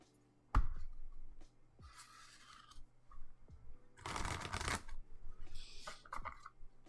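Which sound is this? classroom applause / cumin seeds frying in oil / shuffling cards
shuffling cards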